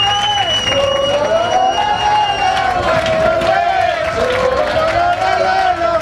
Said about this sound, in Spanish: ¡Venga, un aplauso fuerte!